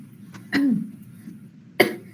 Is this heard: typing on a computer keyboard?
no